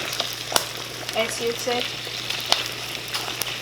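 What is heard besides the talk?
extra firm tofu frying in a pan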